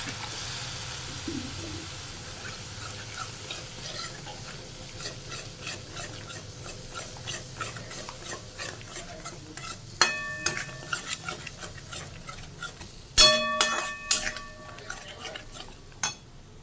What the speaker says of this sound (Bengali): আর দেবো হলুদ গুঁড়ো দিয়ে একটু জল দিয়ে নাড়ব, মশলাটাকে কষাবো।